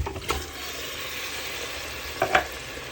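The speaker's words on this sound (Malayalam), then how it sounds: "ഈ ചിക്കൻ നമുക്ക് ഇതിനകത്തേക്ക് ആഡ് ചെയ്ത് കൊടുക്കാം." Chopped chicken is added to biryani masala in a pressure cooker, giving a steady hiss of frying and a few short stirring scrapes and thumps. There is no talk.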